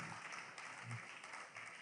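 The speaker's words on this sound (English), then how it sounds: "Please keep clapping now" Steady applause from a conference audience fills the hall, an even wash of clapping at moderate level with no voices over it.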